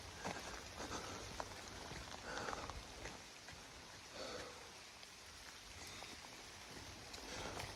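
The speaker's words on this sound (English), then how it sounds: "Well, on the bright side, at least the rain's warm." Rain falls through English woods in summer, a soft, steady patter of drops on leaves and ground, faint and continuous with no talk.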